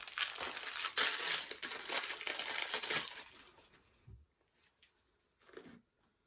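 Tape is pulled and pressed over the front of a long rifle scope, a close crinkling, crackling rustle for a few seconds that fades into a few faint handling taps.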